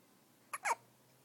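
A baby hiccups twice in quick succession, soft and close in a quiet room, short sharp catches with no talking.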